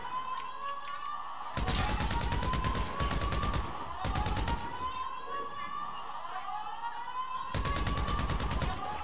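Gunfire bursts in GTA 5 Online during the Doomsday Heist, loud volleys recurring in clusters over a sustained rising siren-like tone, with little or no talk.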